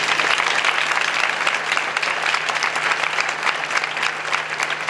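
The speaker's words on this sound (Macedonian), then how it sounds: "Еден аплауз за Маја Марковска." Audience applause at an evening of queer storytelling during Skopje Pride Weekend: a dense, steady clapping from a seated crowd that fills the whole stretch at full loudness without letting up.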